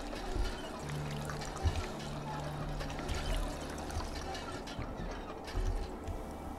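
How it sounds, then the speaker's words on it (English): Water pours and trickles steadily from a water pump in Fallout 4, a continuous gurgling stream with faint low thuds and hum underneath, fairly close and with no talking. "Which is roughly the same amount of time to pump this amount of water."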